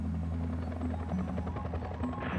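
A large Iroquois helicopter flies carrying about 1,000 kilos of bait, its rotor thumping and turbine droning loud and steady throughout, close by and with no voices.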